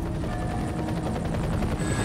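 Helicopter in the PC shooter game F.E.A.R., a continuous rotor thump with a steady rhythmic chop, loud and close, alone without voices.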